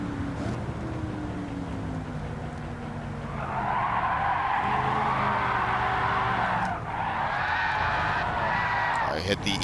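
Tires skidding and squealing after a long e-brake pull on a Firebird in the Gran Turismo racing game at Trial Mountain. A sustained loud screech rises over the engine drone and lasts several seconds, and a voice talks over it.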